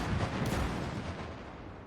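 Mortars and anti-tank guns fire in a WW2 Call to Arms battle defending Leningrad, a dense continuous rumble of booming shots and blasts that stays loud throughout with no clear gaps.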